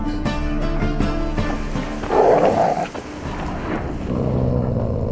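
Dogs growl low and menacingly in The Witcher 3 video game, a rough snarl rising in the middle of the clip over a steady ambient music bed, with no talk.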